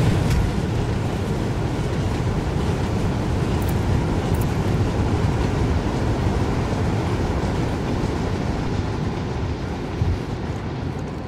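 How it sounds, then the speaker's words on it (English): Train coming along the track, a loud, steady low rumble and roar that fills all eleven seconds close at hand, with a few faint high clicks near the start. "Train was coming."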